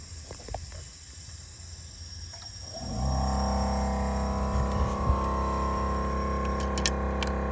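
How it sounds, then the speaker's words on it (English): Compressed air hisses steadily from a hose during a leak-down test on a B8 2.0T engine, with an air compressor starting up and droning loudly beneath the close, continuous hiss. "we can feel air coming out of this hose"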